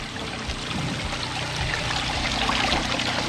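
Water from a new house well pours out under pumping in a steady, close, noisy stream, splashing and gurgling throughout without any talk.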